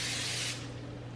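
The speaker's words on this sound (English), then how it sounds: "be sure to give your pan a spray." Cooking spray misted into a foil-lined baking pan for banana bread, one short close hissing burst that cuts off after about half a second, leaving quiet room tone.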